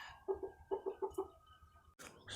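An Aseel breeder rooster clucks in a quick series of low, throaty notes, two short bursts then four more, fairly close and clear against a quiet farm background, ending in a brief rustle.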